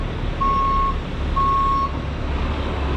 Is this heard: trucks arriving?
yes